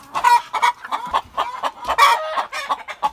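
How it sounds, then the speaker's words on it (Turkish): Village chickens, including broody hens, cluck close by on a farm in quick, repeated bursts, several birds overlapping in a busy, chattering rhythm. "Yumurtada yatan tavuklarımız var."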